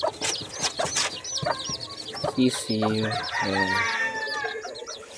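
Sick chicks peep with high, repeated chirps while lower clucking calls sound nearby, and a person speaks briefly at the start.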